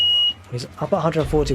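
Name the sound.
home alarm beeping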